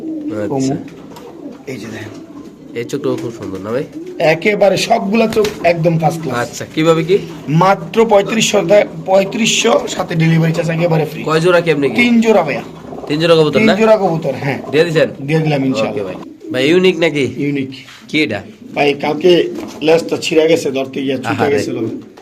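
Domestic pigeons at a pigeon sale coo repeatedly in soft, rolling throaty phrases, close and clear, while people talk over them almost throughout.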